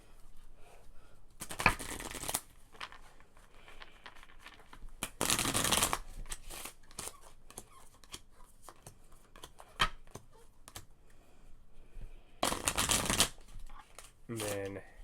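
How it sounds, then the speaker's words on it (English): Cards from the board game Pandemic Legacy being shuffled, with several bursts of riffling and a final bridge-like flutter at the end, close and crisp, while people talk quietly between shuffles. "Oh, we will shuffle a little bit more."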